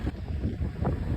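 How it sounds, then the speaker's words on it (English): Gusty wind buffets the microphone in low, uneven rumbling bursts outdoors at a high-tensile net wire fence build, with no voices. "it's windy once again"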